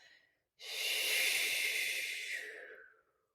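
One long, slow exhale during meditation, a soft breathy rush that starts abruptly, holds steady for about two seconds and then fades out into silence.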